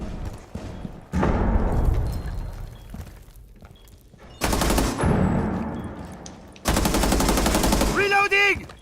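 Bursts of automatic gunfire from the game Rainbow Six Siege, three loud sustained volleys separated by brief pauses, with a short rising electronic tone at the end.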